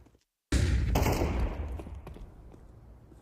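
Burst of rifle fire from an AK and a Galil in Counter-Strike, a sudden loud volley of rapid booming shots that fades into a decaying rumble.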